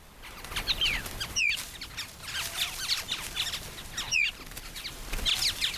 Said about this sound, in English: It's an Australasian fig bird, the Australian cousin of our oriole.